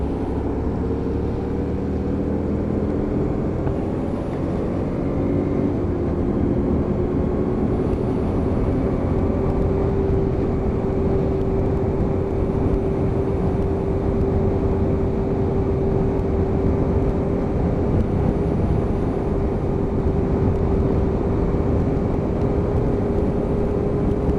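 A Hyosung GT125R motorcycle riding on a cold, wet road, its engine droning steadily with a sustained tone and a constant rush of wind and road noise for the whole stretch, no talking.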